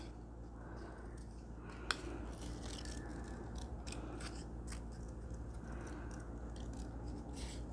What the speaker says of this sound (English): So I'll just go back and cut this out now.